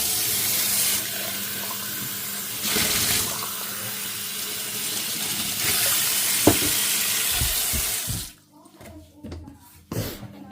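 Tap water runs steadily into a kitchen sink during a home cooking session, a broad continuous rush lasting about eight seconds before cutting off, with light clatter and a few knocks afterward.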